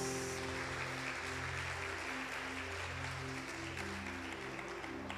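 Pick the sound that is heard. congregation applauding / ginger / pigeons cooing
congregation applauding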